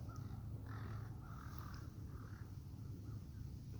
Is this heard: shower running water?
no